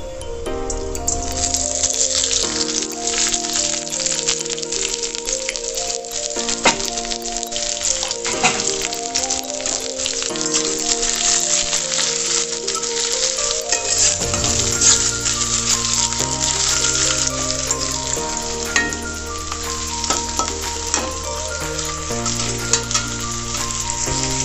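Onions fry in a pan for a desi-style mutton jhol curry, a steady broadband sizzle sitting under prominent melodic background music throughout.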